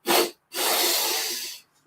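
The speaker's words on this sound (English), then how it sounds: "it often helps to inhale through the nostrils twice, a short followed by a long" Two sharp inhales through the nostrils in a meditation practice, a brief sniff followed by a longer drawn breath, close and breathy against silence.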